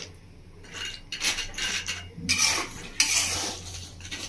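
Cashews are stirred into hot salt in a pan, giving rough gritty scraping and rasping strokes in uneven bursts, close and clear with no talking.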